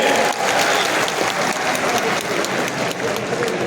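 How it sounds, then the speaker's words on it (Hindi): Loud, sustained clapping from a large crowd at a political rally stage, dense and continuous with slight swells, a voice briefly heard among it. "अरे भाई के लिए ताली बजाइए"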